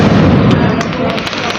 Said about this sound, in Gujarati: ફટાકડા ફૂટો ઉપર